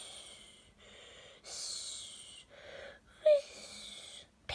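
A voice imitates a small creature's snoring during a storybook reading, with a string of breathy wheezing and snorting sounds in a slow rhythm, close and fairly quiet, and one sharper squeak near the end.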